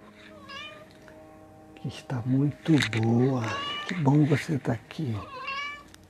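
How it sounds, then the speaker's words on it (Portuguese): A female cat, agitated since early morning, meows repeatedly and insistently close by during an indoor meditation session. Her cries overlap with a person talking calmly. "Hoje minha gata está assim alterada desde cedo."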